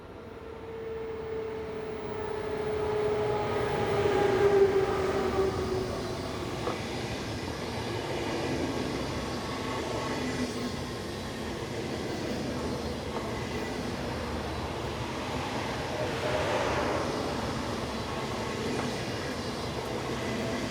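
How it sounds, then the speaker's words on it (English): A Deutsche Bahn Class 401 ICE high-speed train passes on an ICE service around Berlin, giving a steady, broad rolling rumble with faint rail squeal that swells near the start and stays loud throughout. "Class 401s operate many of the ICE services to and from Berlin"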